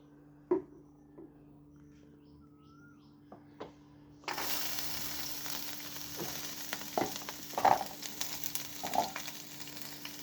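Onion hits hot mustard oil in a pan while cooking Malabar spinach, bursting into a steady crackling sizzle after a few quiet taps and clinks, with stirring scrapes over the frying.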